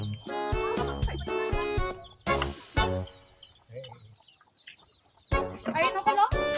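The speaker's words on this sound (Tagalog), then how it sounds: "Uy, manok!" A chicken clucks and squawks nearby in a rural setting among coconut palms, a string of sharp, close calls in bursts with short pauses, with people talking around it.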